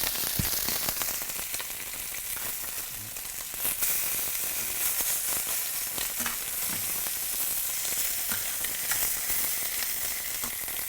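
Lamb pieces searing in a hot pan give off a dense, constant sizzle and crackle with scattered pops and spits, loud and close throughout, with no voices.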